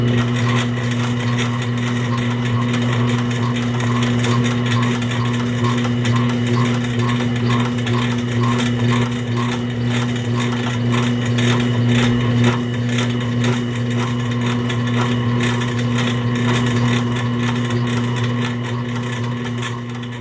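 Sewing machine running steadily throughout a free-motion quilting session with a ruler, a loud continuous motor hum with rapid needle chatter.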